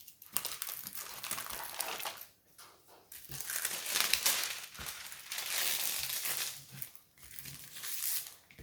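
Plastic film crinkling as it is smoothed back onto a glittered diamond painting canvas, close and soft, in uneven bursts with short pauses.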